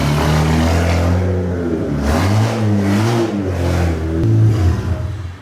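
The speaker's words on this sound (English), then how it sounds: "I always forget how loud this car is." A loud drift car engine revs repeatedly, rising and falling in pitch with a deep, throaty rumble, close by and steady throughout.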